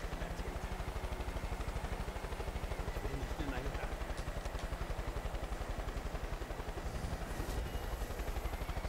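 A helicopter in the video game Far Cry 5 thumps with a rapid, steady rotor chop at moderate distance, its rhythmic pulses continuing throughout behind a faint background clatter.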